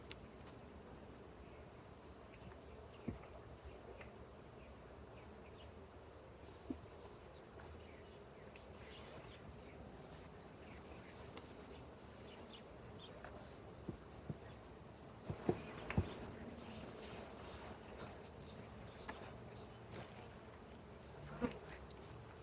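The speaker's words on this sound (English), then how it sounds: "one easy way of doing that is to shake all the bees down into the box" A dense, steady drone of honeybees buzzing continuously as they are shaken down into a hive box during a beekeeping inspection of a colony with swarm cells, with a few faint knocks and clicks.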